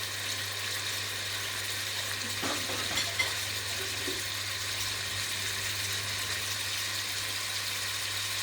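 Meat going into vegetable oil in a pot for a placali okra and tomato sauce, a steady soft frying hiss with a few faint stirring knocks, no talking.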